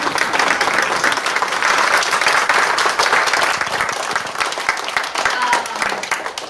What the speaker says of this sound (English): give another round of applause to all of our presenters